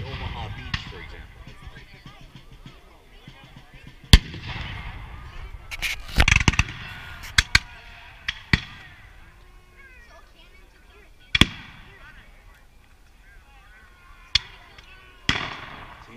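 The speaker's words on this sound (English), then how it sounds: "you can see some of the German Jaegers firing at the American cavalry as they ride up" Reenactment gunfire as German Jaeger soldiers fire at charging American cavalry: scattered sharp musket cracks, some close and loud, others more distant, spaced irregularly over a murmur of background noise and talk.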